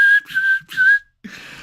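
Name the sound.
person imitating a whistle while marching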